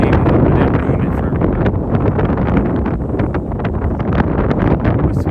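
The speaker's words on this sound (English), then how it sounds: "It's super windy, though." Strong wind buffets the microphone beside the water in New York City on a late winter night, a loud, continuous roaring rumble with gusty swells throughout and no clear voices.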